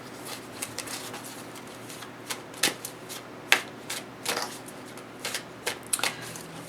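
Tarot cards being shuffled and pulled, close and fairly quiet, with soft scattered riffles and crisp card snaps at irregular intervals.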